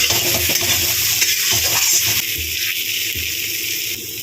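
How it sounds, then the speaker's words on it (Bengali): Spice paste with coriander paste sizzles steadily in a pan of oil while cooking Bengali bhola fish, a continuous close, loud frying hiss with faint stirring scrapes throughout. "ধনেপাতাটা দেওয়ার পরে একটু বেশ ভালো মতো কষিয়ে নিচ্ছি"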